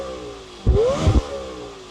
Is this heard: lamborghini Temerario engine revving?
yes